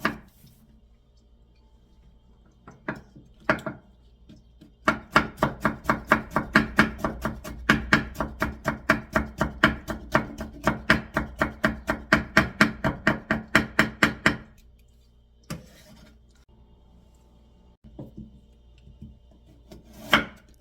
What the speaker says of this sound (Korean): 당근을 조금만 채 썰어 볼 거예요.